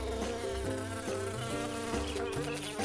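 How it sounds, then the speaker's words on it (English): A bee buzzes steadily and close in an animation, heard alone over a busy musical backdrop for a few seconds. "What does a bee do?"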